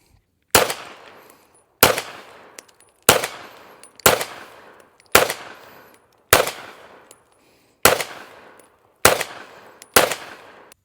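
Nine loud, sharp gunshots come from a Canik METE MC9 pistol at an outdoor shooting range with steel targets. The shots fall at fairly regular intervals of about a second, each with a short echoing tail.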